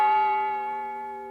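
A single bell struck once, its bright tone ringing out and slowly fading over a second or so, with no other sounds.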